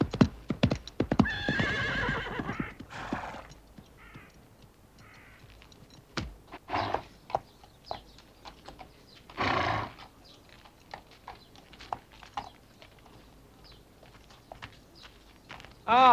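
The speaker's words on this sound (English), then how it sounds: "She's getting her horse ready." Horse hooves clip-clop with scattered steps while the animal is readied for riding, and a horse neighs near the start and again around the middle, all heard fairly close amid quieter pauses.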